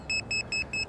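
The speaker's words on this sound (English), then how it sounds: "So there you got your little buzzer." A small brushless whoop drone's lost-model buzzer beeps four times, shrill and electronic, in an even, rapid rhythm, loud and close, over a faint low hum.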